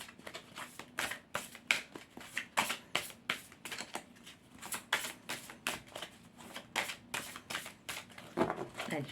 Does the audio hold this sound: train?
no